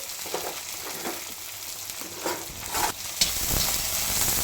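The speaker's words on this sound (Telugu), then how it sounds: "ఆనియన్స్ కూడా వేసేద్దాం" Onions frying in a pan, a continuous close sizzle with intermittent stirring scrapes and a louder burst of hissing toward the end, no voices.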